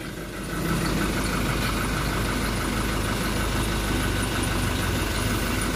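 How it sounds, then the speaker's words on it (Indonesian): A Scania K460 bus engine idles while warming up, a loud, steady, close mechanical rumble with a fast regular knock that starts abruptly and runs without a break. "mesinnya masih garing teman-teman."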